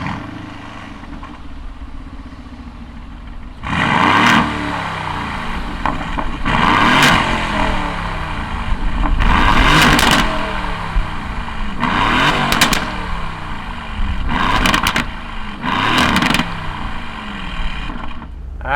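A 2019 Aston Martin Vantage engine fires up after a quiet stretch, then revs in a string of about six loud, sharp bursts that fall back to a rumbling idle between each blip, heard up close.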